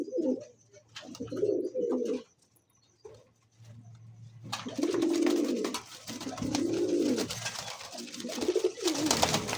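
Pigeons at a pigeon market cooing in soft, throaty low phrases, several close bursts with short gaps, then busier overlapping coos and fluttery rustle in the second half.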